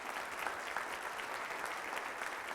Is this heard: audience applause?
yes